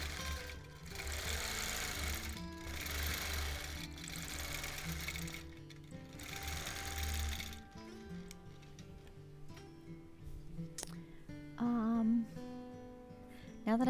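A quilting machine stitches a Double Wedding Ring quilt topper in close, rapid bursts of whirring needle strokes, with pauses between runs and softer clicks and shifting near the end.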